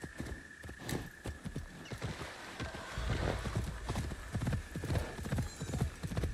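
Horse hooves in the video game Assassin's Creed Shadows, a steady clip-clop of galloping with a rolling rhythm, moderately close, over a faint ambient background.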